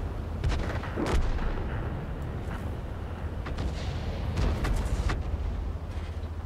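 Tank cannon fire in the video game World of Tanks: several sharp booming shots, around the first, fourth and fifth seconds, ring out over a constant low engine rumble, with no talking.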